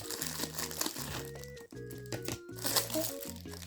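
A crinkly plastic AliExpress parcel crackles and rustles as it is cut open, in close, uneven bursts of crumpling with a low background hum.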